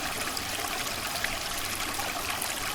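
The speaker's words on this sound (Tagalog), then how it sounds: "tunog ng sapa" Water of a small stream burbles and rushes without pause, an even, close, hissing flow with light trickling detail and nobody speaking.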